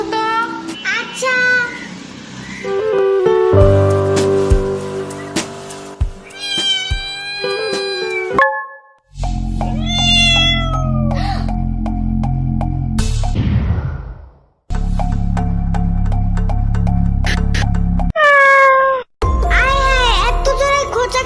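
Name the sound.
cats meowing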